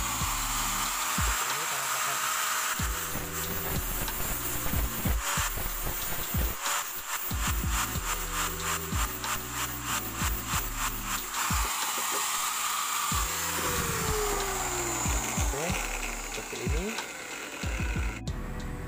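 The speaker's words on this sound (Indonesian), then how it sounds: "kita ratakan dulu menggunakan amplas" Hammer head rubbed with 60-grit sandpaper, repeated rhythmic rasping strokes at close range, some rapid and some slower, with a person talking over much of it.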